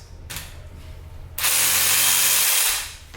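A Dewalt one-handed power saw cuts a branch clamped in a vise. Quiet handling noise comes first, then a loud, close, buzzing cut that runs about a second and a half before it stops.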